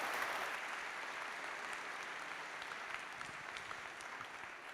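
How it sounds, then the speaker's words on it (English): Sustained applause from a conference audience after a talk, steady and dense across the whole stretch with no voices on top, gradually easing slightly toward the end. "Please, everyone, a big round of applause."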